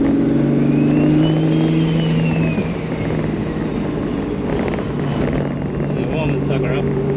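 A turbocharged car fitted with a Precision 7675 dual ball bearing turbo, its engine droning loudly and close with a steady low hum and rising and falling turbo whine; someone talks over it.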